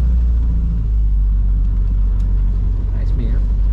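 A Renault R8/R10 with automatic transmission drives along, its engine and road noise a loud, steady low rumble throughout, with a brief faint voice near the end.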